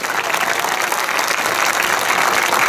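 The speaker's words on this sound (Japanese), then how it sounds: "もう一度ヤブザキさんに大きな拍手" Football supporters at Kashiwa Reysol's Hitachidai stadium give a big, sustained round of applause for a returning player, a dense crowd clapping steadily from start to finish.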